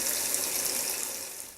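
Hot water runs into a Whirlpool Gold washing machine in a weak, steady hiss of filling water, continuous and fairly close with no talk.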